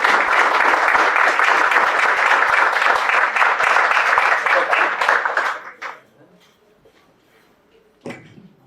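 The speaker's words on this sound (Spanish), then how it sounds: "Lo recibimos con un fuerte aplauso" A lecture audience at an architecture school gives a warm, dense round of applause for Bernardo Rosello that fades out after about six seconds, followed by near quiet and a brief knock.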